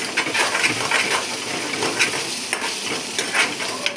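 Egg fry curry stirred in hot oil in a pan: steady close sizzling with repeated scraping and tapping strokes of the spoon against the metal.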